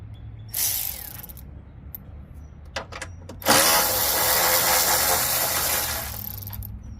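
A 12 mm bolt on a Hyundai Elantra headlight being loosened with a ratchet, short clicking bursts followed by a longer steady run of fast ratcheting, close and fairly loud.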